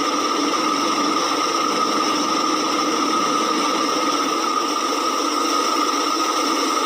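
Air escaping from the cooling system of a Daihatsu Gran Max car with an overheating engine makes a steady, loud, unbroken hiss throughout, with no talk.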